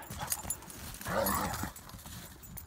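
A Great Dane and an English Mastiff run around playing, heavy paws thumping on the ground in a quick irregular clatter, with scuffling and a louder burst of movement midway.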